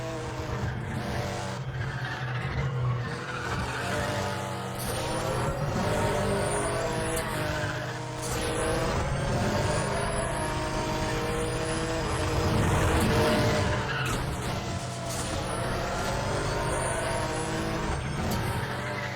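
Mercedes AMG racing in the video game Need For Speed The Run on PS3 multiplayer: steady, loud engine roar with rising gear-shift whines and occasional tire skids, continuous throughout with game music underneath and no talk.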